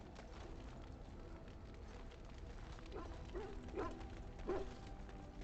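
A dog barks in the Dragon Age video game, a few short barks and yips near the middle and end over a steady background hum of game ambience, with faint talk.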